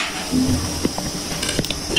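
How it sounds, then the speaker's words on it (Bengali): A karai wok is set down on a home kitchen stove while cooking duck: a few light metallic knocks and clinks, close and moderately loud, over quiet kitchen background with no talking. "চুলায় একটি কড়াই বসিয়ে দিলাম"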